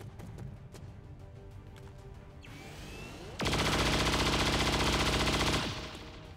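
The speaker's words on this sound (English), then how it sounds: "we're laying down Typhoon saturation fire against the mech and the stun lancer" Typhoon saturation fire from a weapon in XCOM 2: War of the Chosen: after some quieter game sounds and a rising whoosh, a loud sustained burst of rapid automatic gunfire runs for about two seconds, then cuts off and fades.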